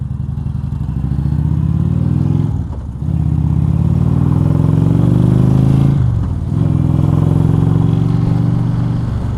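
Indian Chieftain motorcycle engine while riding, a loud, close, steady low throb that rises in pitch as it accelerates, drops briefly at two gear shifts around three and six seconds, then climbs again, with no talking.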